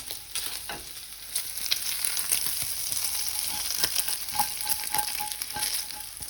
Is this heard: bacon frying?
yes